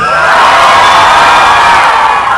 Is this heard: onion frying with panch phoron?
no